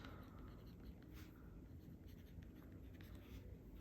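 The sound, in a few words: pen writing in a planner notebook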